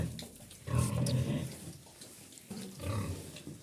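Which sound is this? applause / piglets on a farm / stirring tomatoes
piglets on a farm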